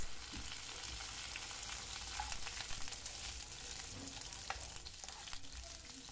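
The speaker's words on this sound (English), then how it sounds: "add the chopped green chilies ginger and curry leaves. Saute for a minute to remove the rawness." Green chilies, ginger and curry leaves sautéing in hot oil for a Kerala vegetable stew, giving a steady close sizzle with faint stirring scrapes throughout, no voices.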